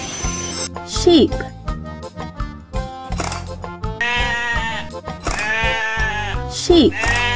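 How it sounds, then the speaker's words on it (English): Sheep bleat in short wavering cries, two distinct bleats heard among music and spoken words from a child-oriented animal-sounds game. "Sheep."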